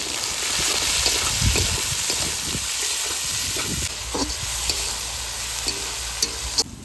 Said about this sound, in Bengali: পেঁয়াজটা তাড়াতাড়ি ভাজা হবে